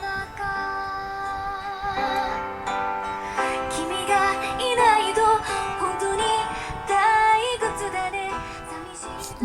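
Melodic music with sung vocals plays steadily from a Huawei MatePad 10.4 tablet speaker, fairly loud and clear throughout, with no talking over it.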